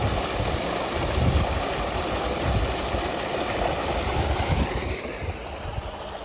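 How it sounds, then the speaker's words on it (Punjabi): A farm water pump's electric motor, drawing about 21 amps on 400 volts, runs in a steady, loud, unbroken drone with rushing water-like noise and no voices. "ਮੋਟਰ ਚੱਲਦੀ ਹੈ ਜੀ"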